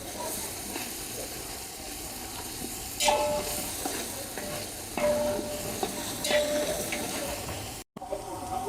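Onions with ginger garlic paste fry in a pan while being stirred, a continuous sizzle broken by periodic scraping clanks of a spatula, with faint background sound and no clear talk.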